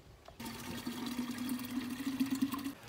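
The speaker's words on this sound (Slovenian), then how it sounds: "zdaj je treba tale penilc nafilati z vodo" Water streams steadily into a car wash foam cannon bottle outdoors beside an apartment block, a continuous close filling gurgle that starts abruptly and runs for a few seconds with no talking.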